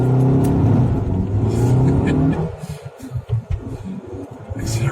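A vehicle with a digital throttle controller set to race mode accelerates hard, its motor rising in a loud continuous drone that then drops back into choppier, uneven running, close up with no talk.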